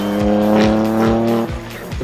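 A race car powers hard along a track between corners, its engine note loud and sustained with a strained, rising tone that briefly dips near the end.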